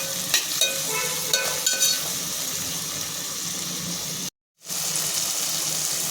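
Onion and tomato sauté in a pan with a continuous moderate sizzle and a few early utensil taps, the sound cutting out abruptly for a moment before resuming.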